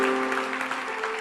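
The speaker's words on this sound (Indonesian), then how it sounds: "Kasih tepuk tangan untuk Tuhan." Applause from a church congregation during a sermon, a steady dense clapping wash heard at moderate level for about a second, with a faint sustained tone running underneath.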